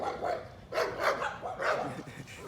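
A white dog barks in three short, sharp bursts at close range, with a brief pause between each bark.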